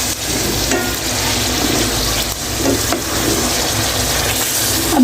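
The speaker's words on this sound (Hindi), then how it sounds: "अभी मैं थोड़ा सा आलू गलाने के लिए पानी डाल रही हूँ ताकि आलू हमारे गल जाए।" Water poured into a pan of frying potatoes for aloo biryani sets off a loud, continuous hiss and sizzle with bubbling, close up and steady throughout, with no talking.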